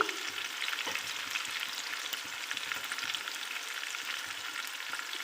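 Chopped onion, green chili and garlic fry and get stirred in a pan, with a steady close sizzle and frequent soft scraping strokes throughout.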